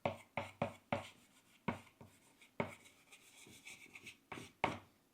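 A marker writing on a board makes a series of sharp taps and short squeaky strokes in an uneven rhythm. The sound is close but faint, with no talking.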